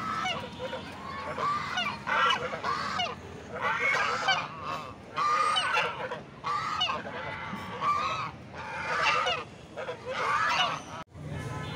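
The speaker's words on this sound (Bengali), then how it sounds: "মাঠের ভিতরে রাজহাঁস হাসতেছে।" Domestic geese honking in an open field, loud repeated bursts of harsh overlapping calls from several birds at close range, broken by short pauses, with a little background voice activity.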